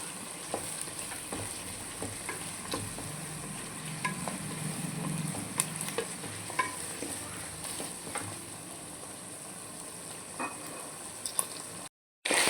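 Chicken pieces and onions fry in a pan for a home-style chicken curry, with a steady close sizzle and repeated scrapes and taps of stirring, then a brief cut before the hiss resumes.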